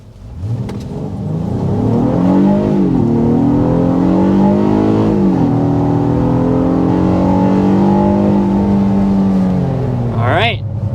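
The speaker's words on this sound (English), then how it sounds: "That was an acceleration up to 60 miles per hour." A 2024 Honda Passport V6 under hard acceleration to 60 mph, engine droning loudly and rising in pitch through several upshifts inside the cabin, with a brief chirp near the end.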